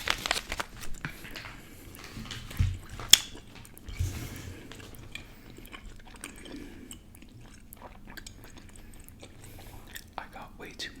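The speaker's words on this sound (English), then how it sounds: "Alright, let's chew it." Gum chewed right against the microphone in a quiet ASMR setting, with soft wet smacks, squishes and occasional sharp clicks in an irregular rhythm, intimate and close.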